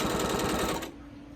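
A sewing machine stitches quilt pieces in a fast, even run. The stitching stops abruptly after about a second and leaves a quiet hum, with no talking.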